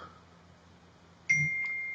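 A phone notification sounds once: a single clear electronic beep, close and moderately loud, holding a steady tone over a quiet room.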